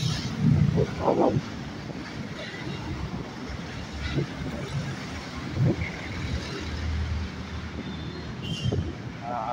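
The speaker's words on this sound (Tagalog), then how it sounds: "tuloy-tuloy lang yung mga sasakyan" Road traffic along a roadside walking route, cars passing continuously with broad swelling rushes and some wind buffeting, moderately loud and steady throughout.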